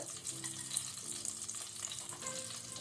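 Whole spices fry in ghee over a low flame for chicken biryani, giving a steady, close sizzle with faint stirring, continuous for the whole stretch with no voices.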